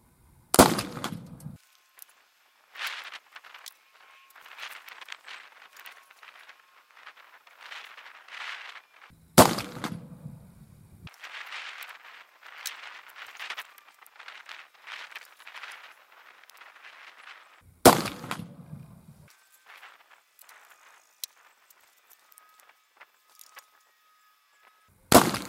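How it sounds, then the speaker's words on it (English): A muzzleloader rifle fires three loud, sharp shots about nine seconds apart, each followed by a short decaying echo. It is loaded with Pyrodex, 35 grains behind a 365 grain minie ball as a subsonic load, and faint rustling and handling noises fill the gaps between shots. "So without further ado, let's start shooting."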